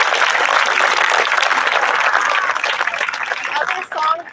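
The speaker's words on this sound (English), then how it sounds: "Can we give them a round of applause?" A crowd at a grade 8 promotion ceremony applauds the graduating eighth graders, steady dense clapping that thins out near the end.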